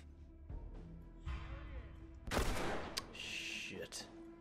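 Gunfire in The Last of Us Remastered, with a loud, broadband burst around the middle and a few sharper cracks after it, set among game ambience and rumble.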